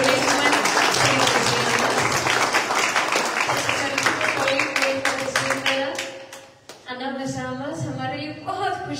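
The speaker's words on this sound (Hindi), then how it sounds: "हम तालियों के साथ उनका स्वागत करेंगे।" A church congregation claps to welcome visiting guests from a Korean church, loud sustained applause that fades out midway before a voice begins speaking.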